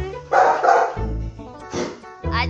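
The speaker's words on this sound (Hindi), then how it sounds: "अच्छा ताकत नहीं लगी तो भौंक के।" A pet dog barks while tugging a notebook away from its owner at home, giving several short, close, loud barks and yips in quick bursts with small gaps between them.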